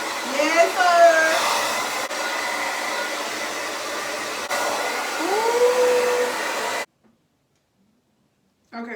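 Hair blow dryer running loudly and steadily with a constant whooshing roar for about seven seconds, then switching off into silence.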